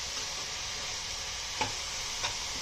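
Shredded cabbage frying in a pan over a medium flame, a steady close sizzle with two faint taps of a utensil.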